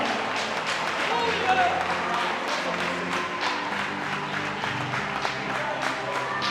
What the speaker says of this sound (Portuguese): Faça um terremoto aqui de palmas e aleluias agora